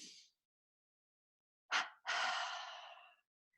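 Breathing exercise done through the mouth: a short breath at the start, then two quick sharp inhales followed by a long, soft, steady exhale, close and quiet against silence.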